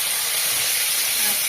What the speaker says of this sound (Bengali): তেল গরম হয়ে গেছে, পেঁয়াজ রসুন জিরে বাটা দিয়ে দিচ্ছি